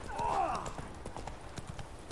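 Horse hooves clip-clopping steadily while riding in The Witcher 3, the rhythmic hoofbeats running through the whole stretch under a voice and game sounds.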